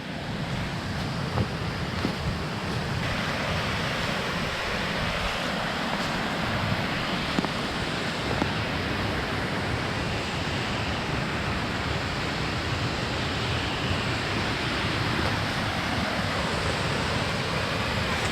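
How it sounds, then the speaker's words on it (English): Steady, dense roar of rushing water, like a waterfall, constant and enveloping for the whole stretch. "This is a pretty sweet looking waterfall."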